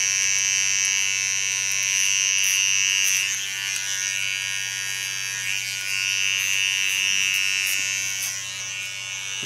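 An electric hair clipper cuts hair during a short asymmetric pixie cut, a steady high-pitched buzz held close and continuous throughout with slight wavering.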